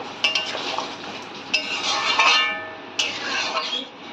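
Chickpeas and masala are stirred and sautéed in a pan, with a spoon scraping and clinking against the metal at steady intervals over a soft, continuous sizzle. The sound is close and moderately loud, with no speech.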